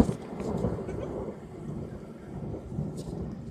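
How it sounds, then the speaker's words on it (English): Low, rolling thunder rumbles steadily through the whole stretch, a broad distant roar outdoors by a lake with faint rain or wind noise on top and no clear talk. "It's thunder."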